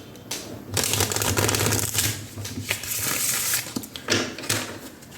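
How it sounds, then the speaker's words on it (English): A Romance Angels oracle deck being shuffled and a card drawn, giving close, crisp riffling and flicking bursts of card noise with brief pauses between them and no talking. "I'm going to take out one card from the Romance Angels."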